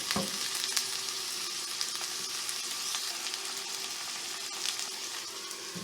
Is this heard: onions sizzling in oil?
yes